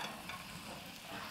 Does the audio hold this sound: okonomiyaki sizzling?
yes